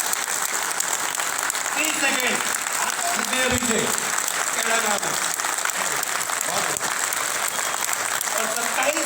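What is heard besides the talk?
crowd clapping continuously for 30 seconds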